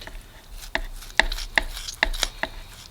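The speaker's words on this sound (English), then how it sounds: "for the backbone here, we're just going to chop that part off" A knife or cleaver chops through a raw chicken backbone on a cutting board, giving about eight sharp, separate thuds at an irregular pace, close up and with no talking.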